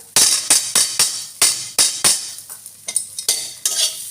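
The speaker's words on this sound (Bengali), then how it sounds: "এবারে সয়াবিনটা আদার সঙ্গে নেড়ে নেব" Soybeans and ginger are stirred in a pan with brisk, repeated scraping strokes, about a dozen loud, rhythmic swishes that slow slightly toward the end, with a faint sizzle underneath, heard close up.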